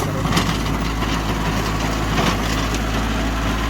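A 24 horsepower tractor engine running at 2200 RPM, a loud, steady low-pitched chugging drone with occasional knocking clatters from stones and bricks, close by and continuous throughout.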